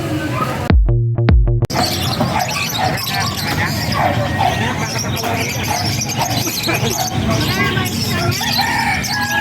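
A crowded pet market filled with birds, where dense overlapping chirps, squawks and a rooster-like crow run steadily throughout, loud and busy, with a short harmonic call near the start and voices murmuring in the background.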